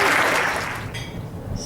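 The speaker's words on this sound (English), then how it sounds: "if you could give them a round of applause" Crowd at an awards banquet breaks into applause, a dense wash of clapping that fades over a second or so as the room settles.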